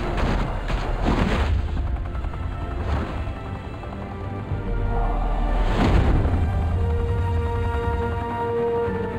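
Gunfire and heavy booms fill a shootout in Batman: The Telltale Series, with dense continuous shots and a loud blast near the start and another around the middle, under a steady rumbling backdrop.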